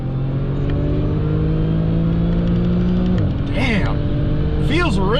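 An Audi B8 S4 accelerating hard with wheel spin, its engine droning steadily loud and close inside the car before a brief gear change and renewed pull, with excited whoops from the occupant.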